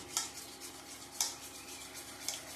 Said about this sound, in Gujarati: માથે આપણે થોડું તેલ નાખીશું સાજીના ફૂલ ઉપર, અને એને આપણે એકદમ હલાવી નાખશું.